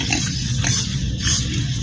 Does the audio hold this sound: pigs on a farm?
yes